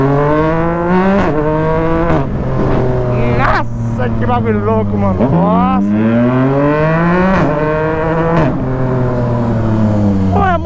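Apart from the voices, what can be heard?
Yamaha MT-09 motorcycle with Jeskap exhaust accelerating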